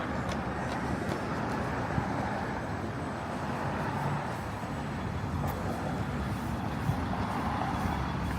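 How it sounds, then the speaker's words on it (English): A Toronto city bus on route 97 heading toward St. Clair station, a steady low rumble of the bus blended with surrounding street traffic, continuous and fairly distant, with no talking. "That's the 97 bus. That's going down to St. Clair station."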